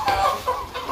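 Chickens cluck close by in a quick series of short, nasal calls, three or four bursts within a second, with no talking over them.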